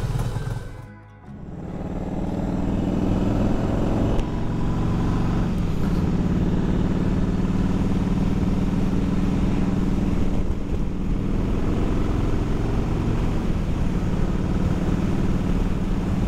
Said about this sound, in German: So, erste Fahrt mit der neuen Auspuffanlage.